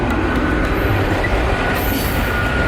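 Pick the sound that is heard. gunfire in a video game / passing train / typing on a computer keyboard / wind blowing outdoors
passing train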